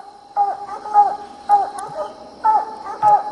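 Hunting dogs at night in East Texas bark at a raccoon up a tree, five or so repeated howling bay-like barks in a rough rhythm, fairly near and loud against a faint steady insect drone.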